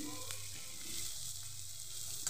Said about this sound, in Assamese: এনেদৰে অলপ পিঁয়াজ আৰু বিলাহী আৰু জলকীয়া গুড়ি দি পিনে মই অলপ সময় ধৰি ভাজি ল'ম